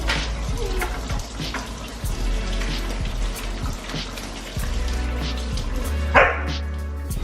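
A dog barks indoors in a kitchen, with repeated sharp barks spread across the moment, loud and close, over faint background clatter.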